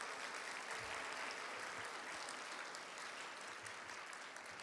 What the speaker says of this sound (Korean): 우리 이분들을 위해서 한번 격려 박수 쳐드리죠